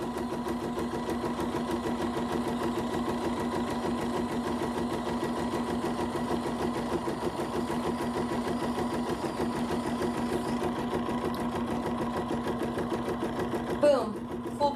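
A sewing machine winds a bobbin with a steady, even mechanical whir that holds a constant pitch. It runs close and unbroken until a brief clatter near the end as it stops.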